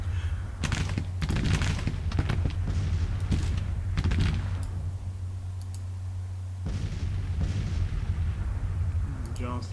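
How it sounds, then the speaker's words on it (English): Artillery bombardment rumbles in Grand Tactician: Civil War, a Civil War battle game set in the Shenandoah, with repeated heavy booms and cracks of cannon fire over a steady low battlefield drone, loud and continuous throughout. "I don't want my guys advancing up into the bombardment"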